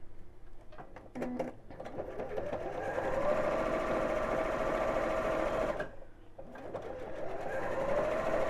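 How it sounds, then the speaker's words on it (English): A domestic sewing machine runs a steady straight seam across the top of a child's drawstring backpack near the fabric edge, a continuous close whirring with brief pauses and restarts. "I'm just going to sew straight across the top."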